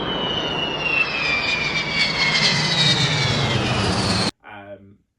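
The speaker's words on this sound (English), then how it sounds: "the Avro Vulcan made a brilliant noise, an unreal howl it used to make." Loud Avro Vulcan jet bomber engine roar with a piercing, howling whine sliding slowly downward in pitch, then cut off abruptly, followed by a brief voice.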